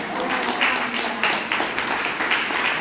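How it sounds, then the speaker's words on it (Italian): Audience applause during an Italian Lectio Divina gathering, a steady, dense round of clapping from a group that holds at an even level throughout, with no talk over it. "Sandra Vitale, adesso noi ti applaudiamo."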